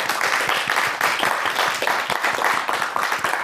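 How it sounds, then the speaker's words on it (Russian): Studio audience applause on a Gomel evening television program: many people clapping loudly and close by in a thick, sustained burst with slight rhythmic pulsing. "Эти аплодисменты вам."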